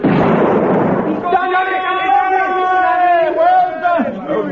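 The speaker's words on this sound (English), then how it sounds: "He's thrown the grenade." A grenade blast in a radio drama opens as a loud, dense roaring burst, then tails off into shouting voices that carry on over the fading rumble.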